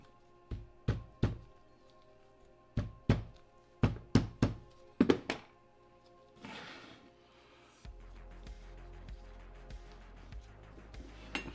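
Leatherwork tools tap on leather in small clusters of sharp, close knocks, about a dozen in all, before the taps stop and give way to a low, steady background hum.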